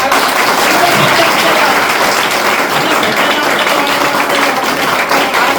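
Dense, loud audience applause at a World Indigenous Day celebration in Shirdi, with a large crowd clapping steadily and evenly for several seconds, nearby and continuous.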